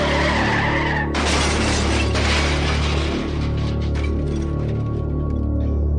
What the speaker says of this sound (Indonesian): terdengar suara benturan cukup keras di jalanan depan bangunan tua itu